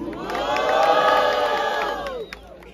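A crowd at a Brazilian rap battle erupts in loud, sustained cheering and shouting, swelling for about two seconds and then dropping off sharply.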